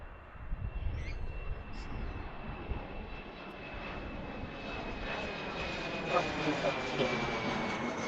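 A fixed-wing airliner lined up for takeoff at Washington Reagan National Airport, its engines producing a steady, broad roar that builds slightly toward the end, heard from a distance with a faint high whine.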